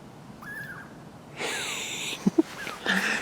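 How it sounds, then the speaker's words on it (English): A tiny squirrel chatters up in a tree on a forest hike near Cougar Creek Falls, giving faint, scattered squeaks and chirps in short bursts over quiet background noise. "It's this little tiny squirrel up there."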